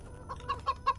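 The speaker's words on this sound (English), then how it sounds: "Oh, chicken. Hello, chicken." Chickens in the video game Witch Hunt give a quick run of three or four soft, rhythmic clucks, close and moderately quiet over a low ambient hum.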